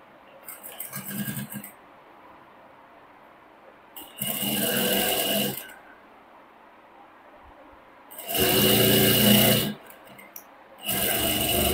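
A sewing machine stitches the front panel of a four-dart blouse in three loud, close bursts of steady whirring, each a second or two long, separated by quiet pauses, with a brief start of another run at the end.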